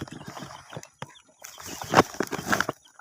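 A hen clucks in short, broken bursts close by on a farm, mixed in with other noises.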